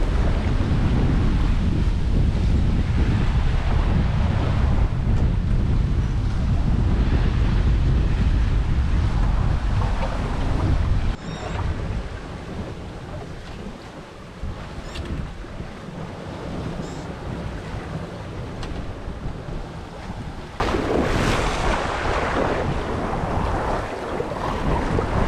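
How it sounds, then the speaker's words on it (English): Sailing boat heading across the Atlantic toward the Azores at about 6.5 knots, with a steady rush of waves and water along the hull and strong wind buffeting the microphone, loud and continuous throughout. "it's a very nice day sailing out here"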